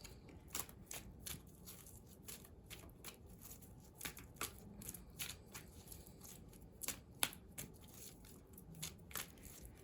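Tarot cards being shuffled in a quiet room, a steady run of soft riffling flutters and crisp snaps at close range, with no voices.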